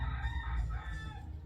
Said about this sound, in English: our neighbors have chickens right next door